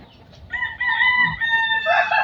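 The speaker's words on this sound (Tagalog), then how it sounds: "Ay nakakatuwa naman sunuran yung mga manok." Chickens cluck and crow close by while following someone around a yard before feeding time, a loud burst of layered calls over a short stretch.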